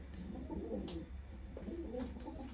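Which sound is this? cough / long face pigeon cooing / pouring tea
long face pigeon cooing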